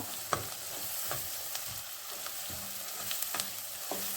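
Vegetables frying for pav bhaji, a soft steady sizzle broken by spatula stirs and light scrapes against the pan, close and fairly quiet.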